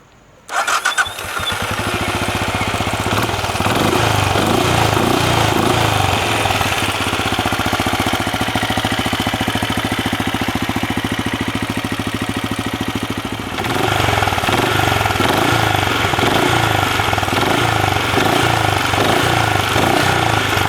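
Benelli Imperiale 400 motorcycle engine starting and then idling steadily, a loud close thumping single-cylinder rumble with an even rhythm running throughout, briefly dipping midway before resuming.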